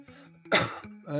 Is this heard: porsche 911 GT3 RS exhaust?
no